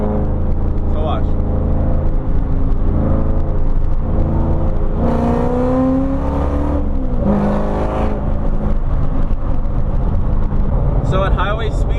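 A 2005–2009 Ford Mustang with an aftermarket exhaust accelerates up a highway on-ramp at about quarter throttle, its loud droning note rising in pitch through a couple of shifts over continuous road and wind noise.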